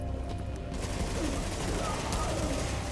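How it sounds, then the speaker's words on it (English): Automatic weapons fire in Tom Clancy's The Division, bursts of gunshots crackling at a moderate distance over a steady ambient background. "So, that shooting, that was you, right?"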